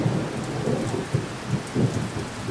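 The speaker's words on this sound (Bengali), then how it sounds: "মেঘ গজরাচ্ছে আর সাথে বৃষ্টি।" Thunder rolls low and heavy through steady rain falling at a resort near Kolkata, with several deep rumbles swelling and fading over a constant wash of rainfall and no voices.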